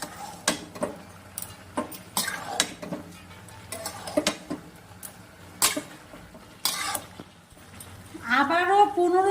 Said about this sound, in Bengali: এবার ভালো করে নাড়াচাড়া করে দিব।